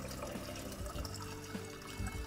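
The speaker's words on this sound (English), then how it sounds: "Pour it in through the funnel." Shellite and water pour through a funnel into a container after cleaning clock parts, giving a steady, close liquid trickle and gurgle with no pause throughout.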